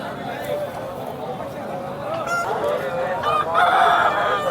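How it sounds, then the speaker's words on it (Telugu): A game rooster crows at a busy chicken market among other fowl, the call rising out of a crowded backdrop of clucking birds and people talking nearby. "ఇవి రెండు కూడా పట్టాపుంజు పిల్లలు"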